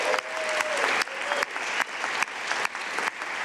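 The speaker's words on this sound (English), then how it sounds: "Extended round of applause for Coolidge member, staff member, Ann Continelli," A theatre audience applauds in a sustained round, steady clapping carrying on without a break, with a few faint voices mixed in at a moderate distance.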